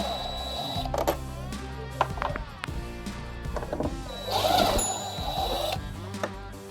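Screws on a Jeep Wrangler JK air filter box being loosened with a 10mm tool: close, uneven mechanical whirring and ratcheting with knocks and clicks, occasional faint speech.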